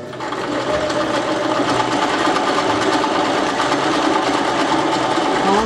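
A $99 home sewing machine runs a zigzag stitch along the trimmed bottom hem of a small shirt, a loud, fast, steady mechanical whirring and clatter that continues unbroken, with no talking.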